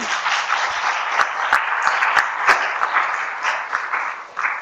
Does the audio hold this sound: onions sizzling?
no